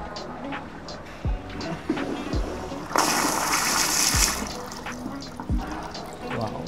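A luxury TOTO toilet sprays water in a short hissing burst lasting about a second, set among quieter splashes and trickles while people talk nearby.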